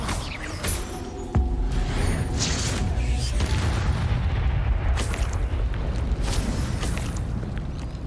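In Hogwarts Legacy, the Incendio fire spell goes off in a sudden fiery blast followed by a sustained roaring, crackling burst, loud and close, alongside other game effects.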